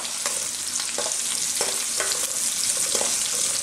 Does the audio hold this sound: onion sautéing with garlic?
yes